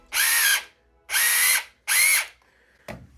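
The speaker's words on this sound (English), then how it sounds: "as soon as I gave it too much throttle, the tires would just kind of, the motor would spin." The electric motor of a WPL D12 RC truck whines in three sharp bursts under throttle, each about half a second long and separated by short pauses, followed by a faint click; the motor spins freely because of a transmission fault.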